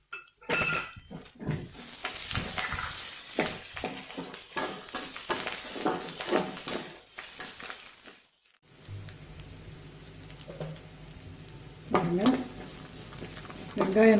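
Sliced onions, cashews and curry leaves sautéing in a pan with a busy sizzle, clinks and scrapes of a spoon stirring, the frying settling into a softer hiss near the end.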